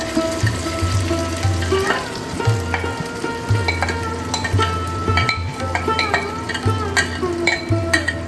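Marinated chicken hits a hot wok and fries with a steady, loud sizzle, broken by the scrape of stirring and some splashing, watery sounds, with no talk.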